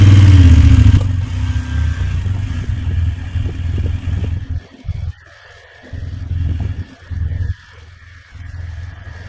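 A heavy motorcycle rolls downhill on a muddy road, its engine a low, loud rumble at first, then easing into an uneven drone broken by brief dips and quiet gaps, with no voices.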